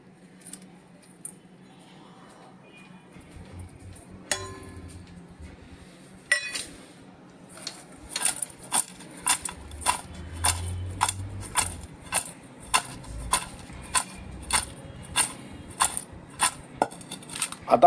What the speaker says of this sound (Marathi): आणि पुन्हा एकदा ही भेंडी या पद्धतीने हलवून घ्यायची आहे